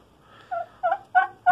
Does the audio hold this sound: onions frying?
no